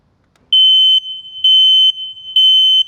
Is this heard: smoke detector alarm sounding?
yes